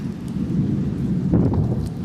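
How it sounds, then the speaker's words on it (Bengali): Steady rain falls under a stormy sky, a dense, continuous wash of patter with a low rumble of thunder beneath it, with no voices heard. "এইদিকে বৃষ্টি দিতেছে"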